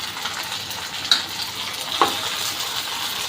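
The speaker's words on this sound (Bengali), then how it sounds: "এতে কষাইতেছি মাংসটা" Meat frying in mustard oil in a pan for a home-cooked khichuri meal, a steady close sizzle with a couple of sharp pops and clinks of stirring, no voices over it.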